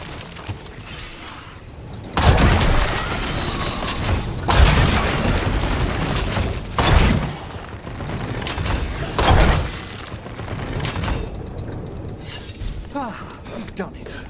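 In the video game Dragon Age The Veilguard, a ballista fires heavy bolts: four booming, mechanical launches roughly two seconds apart, each with a sharp attack and a rumbling tail over steady game ambience.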